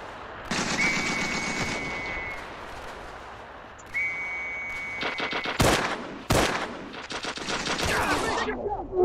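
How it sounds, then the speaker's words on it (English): Machine gun fire in Ravenfield's World War One setting, rapid rattling bursts with short pauses and a few sharp heavy shots, close and loud, with a faint whistling tone threading through. "Machine gun."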